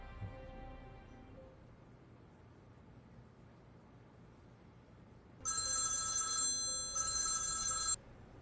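A telephone rings with a bright electronic trill, two bursts separated by a brief gap, heard over a low hiss of background noise in a Turkish drama.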